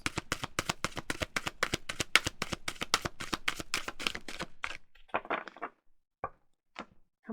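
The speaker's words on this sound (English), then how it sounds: "How many shuffles was that?" Tarot cards are riffled rapidly in a steady, crisp clatter of dozens of quick snaps that ends with a few slower taps and shuffles as the deck is squared, close and fairly quiet.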